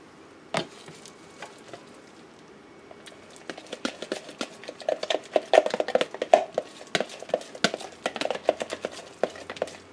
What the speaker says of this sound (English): And I'm just loosening this up by stirring it.